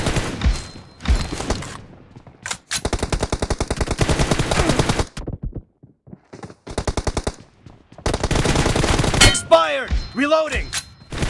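Rapid bursts of automatic gunfire in a video game, repeated in several long volleys with short pauses between, loud and close, mixed with brief single shots and metallic clinks.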